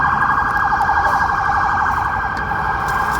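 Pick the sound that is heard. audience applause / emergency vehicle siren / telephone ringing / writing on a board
emergency vehicle siren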